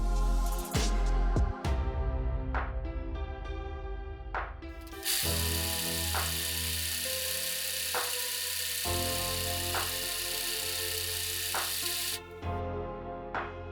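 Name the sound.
overlock serger stitching the top edge of the facing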